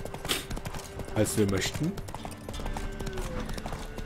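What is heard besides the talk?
horse hooves clip-clopping, video game The Witcher 3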